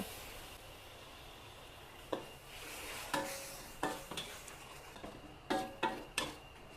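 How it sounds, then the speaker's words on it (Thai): Red curry paste with pork cracklings is stir-fried in a pan, a faint steady sizzle broken by several sharp scrapes and clinks of a spatula against the pan, close and quiet with no talking. "แล้วเราก็ผัดต่อนะคะ ให้ลักษณะพริกแกงค่ะ สีเข้มขึ้น"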